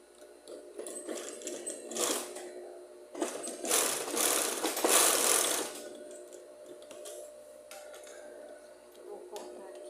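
Sewing machine stitching the hem of a denim jacket, a close mechanical whirring in several runs of a second or two, with a voice speaking between and over the stitching.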